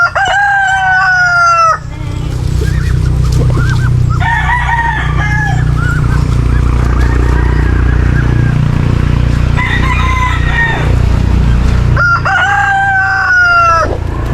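Free-range chickens, hens and a rooster, cluck and call close by, with a rooster crowing loudly several times over a constant low rumble of wind or handling noise.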